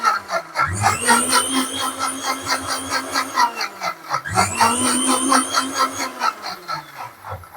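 An electric mixer grinder blends small lemon pieces with sugar for juice, its motor running in two long, loud whirring bursts with a brief pause between them.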